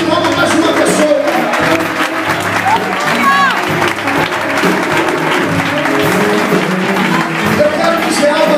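A church congregation at a Thursday evening worship service applauds in a sustained, steady wash of clapping that lasts several seconds, with a preacher's voice and crowd noise mixed in.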